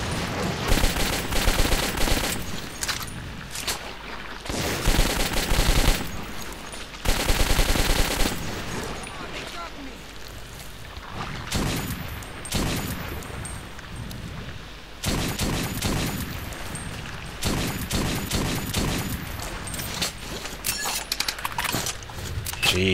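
Bursts of automatic gunfire ring out in the shooter game Metro 2033, several loud sustained rattling volleys separated by short quieter gaps with faint movement sounds between, no talking.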